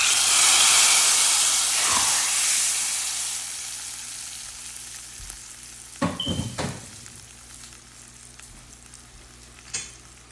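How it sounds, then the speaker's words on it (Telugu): Hot tempering is poured into red lentil tomato dal and sizzles loudly at first, then the sizzle fades into a softer hiss, with a few sharp clatters of stirring near the end. "టమాటా పప్పులో పోపు వేస్తున్నాను చూడండి"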